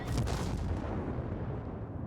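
Grenade blasts in the video game Dying Light 2: a loud, dense low rumble from an explosion that slowly decays over a couple of seconds, with no talking.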